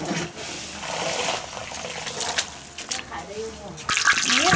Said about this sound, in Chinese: 海带要得了，搂去弄点清水头泡干净